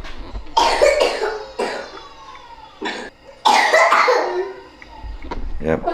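A child coughs in several harsh bursts, close by, with brief pauses between fits and some voiced sounds mixed in, in the morning after a weekend of coughing.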